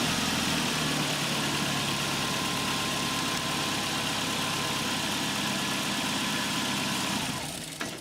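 A 1996 Nissan Altima 2.4L engine idles roughly and struggles to stay running with EGR applied, giving a steady close rumble and hum that fades as it nearly stalls near the end.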